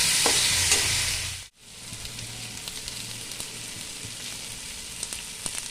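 Tomatoes sizzle and fry in a hot pan for a vegetable curry of jackfruit seeds, a bright crackling hiss with scraping stirs, a brief pause near the start, then steady close frying alone.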